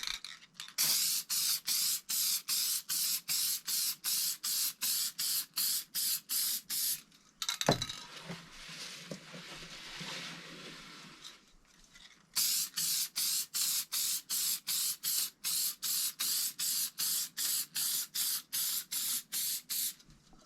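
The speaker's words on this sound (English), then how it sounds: "For that, I will be using my Hornady one-shot case lube." Hornady One Shot case lube sprayed onto rifle brass in quick repeated short bursts, a rapid steady series of hisses, then a brief pause with a clunk and rattle before the bursts resume.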